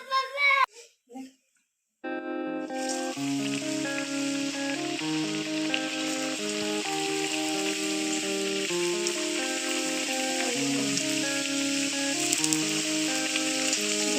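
Thekua, a sweet Chhath Puja treat, fries in very hot oil with a steady, even sizzle. Background music with distinct stepping notes plays over it after a brief burst of sound at the start.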